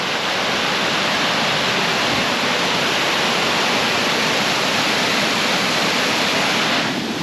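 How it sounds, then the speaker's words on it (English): A small waterfall on a farm rushes with a steady, dense broadband roar that stays loud and unbroken throughout, with no voices. "waterfall"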